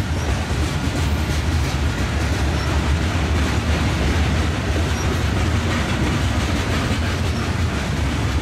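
A Union Pacific mixed freight train rumbles steadily past at close range, a continuous loud roar of rolling wheels and cars with no pauses.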